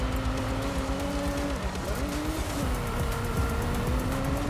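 A 2024 Nissan Z NISMO drifting in Forza Horizon 5, its engine holding a steady loud drone with tonal pitch dips and rises as the revs shift, tyre noise blended underneath, continuous throughout.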